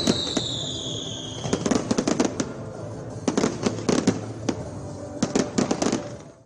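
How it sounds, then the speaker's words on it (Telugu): Diwali firecrackers burst in rapid irregular clusters of sharp cracks and pops, some near and loud, opening with a rising whistle, with no talking. "టపాసులు పేల్చి తమ ఆనందాన్ని వ్యక్తం చేస్తారు"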